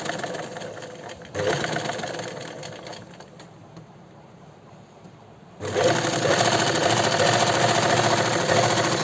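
An electric sewing machine stitching piping along a sleeve edge runs in fast whirring bursts, starting, slowing to a pause, then speeding up again, close and loud with no speech.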